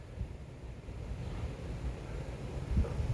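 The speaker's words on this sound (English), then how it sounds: "Wow, look at the wind kicking up." Strong wind whipping up a dust storm in Helena, Arkansas, a steady, loud roar and rumble buffeting the microphone outdoors.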